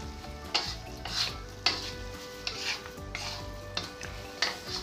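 White noodles, already softened from soaking, are stirred in a frying pan with a steady sizzle and repeated scraping strokes of the utensil at a regular rhythm, close and fairly loud.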